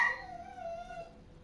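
Dog shut inside a crate with its door open, giving a single short whining yelp that trails off into a faint, falling whimper, fairly close and on its own.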